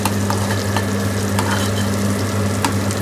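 Ground masala paste for a mackerel and prawn chutney sizzles loudly and steadily in a hot pan, with occasional scrapes and clicks of a spoon stirring it.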